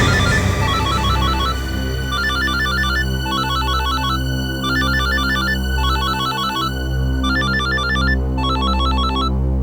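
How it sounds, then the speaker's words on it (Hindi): A telephone ringtone sounds loudly and continuously in a tense crime-drama scene, repeating bursts of bright electronic beeps over a sustained melodic backing with no voices. "हाँ, उसी का फोन है।"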